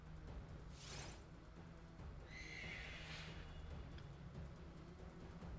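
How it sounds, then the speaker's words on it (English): A horse Pokemon whinnies in Pokemon Sword and Shield: The Crown Tundra. There are two fairly faint neighs, one near the start and a longer one midway, over a quiet game background with light hoof-like clopping. "maybe the other horse Pokemon had an actual horse sound"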